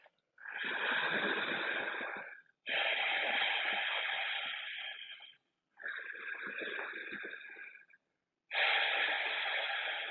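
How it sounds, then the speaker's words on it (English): Ujjayi breathing during a yoga practice: four long, close, hissing breaths, each lasting two to three seconds, separated by short pauses. "keep that Ujjayi breath as you shift to all fours"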